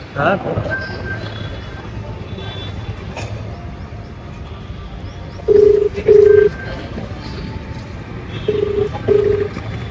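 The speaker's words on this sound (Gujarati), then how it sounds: "ફોન કરું ને હવે" A phone call is dialed and rings, with a few short ringback-style tone bursts heard midway under background traffic noise and people talking nearby.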